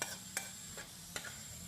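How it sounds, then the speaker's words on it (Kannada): Spices for a tempering sizzle softly in hot oil with a pinch of asafoetida, broken by a few sharp scraping stirs of a spoon against the pan, with no voices. "ಒಗ್ಗರಣೆ"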